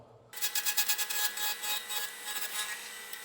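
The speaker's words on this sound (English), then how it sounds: "You can see I'm kind of working the tool, the spindle roughing gouge back and forth." A spindle roughing gouge shears wood on a lathe while a finial blank turns, a loud close scraping hiss with quick pulsing strokes as the tool is worked back and forth.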